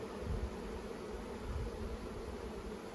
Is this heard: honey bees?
yes